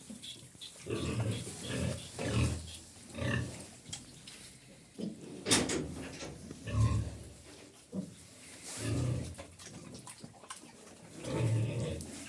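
Piglets grunt and snuffle repeatedly at close range on a farm with a sow nearby, short rough grunts coming in irregular bursts with brief quiet gaps between.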